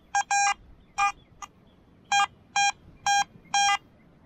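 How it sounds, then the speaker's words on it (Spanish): A metal detector sounding on a Dominican beach, seven short electronic beeps in an uneven rhythm, clear and close over a faint background. "Tenemos otra señal que suena bien."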